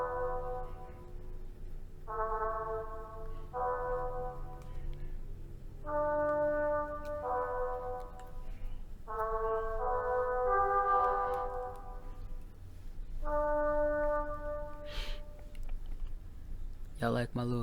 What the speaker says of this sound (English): Y'all like my little air horn?